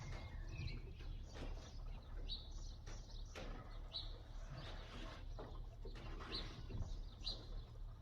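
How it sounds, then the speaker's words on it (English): Pigeons or doves coo repeatedly in the background of a garage where a 1925 Studebaker stands with its engine off, the calls soft and intermittent over a steady low hum. "It's a bit hard with the birds and bits and pieces in the background."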